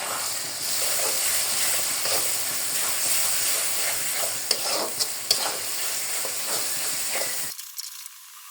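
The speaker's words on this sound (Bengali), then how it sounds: "পেঁয়াজ ভাজাটা হয়ে গিয়েছে, এখন আমি মশলাটা দিয়ে দিব।" Spice paste sizzling and being stirred in a pan of fried onions while cooking a home lunch: a steady, loud frying hiss with scraping stir strokes throughout, cutting off abruptly near the end.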